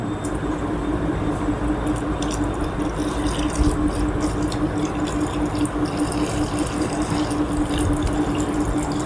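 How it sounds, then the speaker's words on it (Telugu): A continuous gush of water rushes and splashes steadily into a Longway mixer-juicer jar, with a low hum and faint rattling throughout. "దీంట్లో కొంచెం వాటర్ యాడ్ చేసుకున్నాం"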